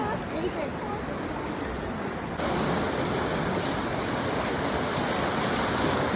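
A river flowing far below a bridge at Rishikesh, a steady, dense rushing roar that continues without a break and grows slightly louder partway through.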